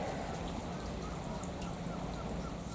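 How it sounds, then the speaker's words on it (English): Heavy rain pours down outdoors as a dense, steady wash of noise, close and even throughout the short stretch, with no clear voices. "and the amount of rain we're having here"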